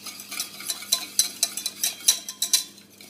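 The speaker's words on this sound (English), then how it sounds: "take it off the heat and just keep whisking" Béarnaise sauce whisked off the heat as butter cubes melt in: quick rhythmic metallic taps and scrapes of a whisk against the pan, close and clear, in irregular bursts about twice per second, with no talking.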